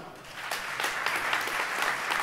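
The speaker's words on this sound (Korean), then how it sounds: "우리 총 회장님 나오실 때 큰 박수 부탁드립니다" A church congregation at a national men's mission retreat opening service applauds as the general assembly president arrives: steady, dense clapping from a large crowd, sustained and moderately loud throughout, with no talk over it.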